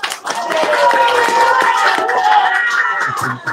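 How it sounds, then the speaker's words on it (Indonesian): Applause from the audience at an Indonesian press event on a land dispute, a loud sustained patter of many hands clapping, close and continuous with some voices underneath. "Tapi sekali lagi tepuk tangan buat Aliansi Rakyat Menggugat."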